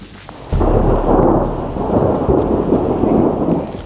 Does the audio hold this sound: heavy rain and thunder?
yes